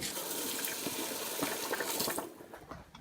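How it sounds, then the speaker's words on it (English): Water pours steadily as cooked gluten-free pasta is drained into a colander in a home kitchen, a loud rushing splash that tapers off after a couple of seconds. "when the pasta's cooked, get it off the heat and drain it in a colander"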